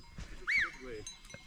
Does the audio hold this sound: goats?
yes